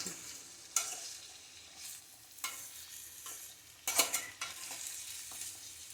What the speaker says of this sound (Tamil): எண்ணெயிலே ஒரு அஞ்சு நிமிஷம் வந்து வதக்கிடுங்க மீடியம் ஃப்ளேம்லேயே வச்சுக்கோங்க